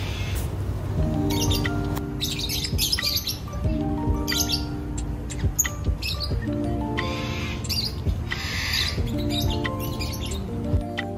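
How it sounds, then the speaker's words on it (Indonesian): Busy lovebird chirping and twittering fills an outdoor restaurant garden, steady and close, with a low hum and music-like tones running underneath. "Dan suara kicauan-kicauan burung ternyata dari sini nih guys."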